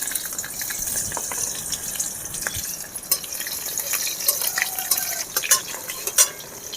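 Three dried chilies, nigella seeds and chopped green chili frying in a little oil, a steady wet sizzle with scattered sharp spatters and stirring clicks, close and moderately loud, without speech.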